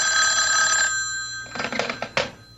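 A telephone bell rings as a radio drama sound effect, a loud close trill that cuts off, followed by the clatter of the receiver being picked up.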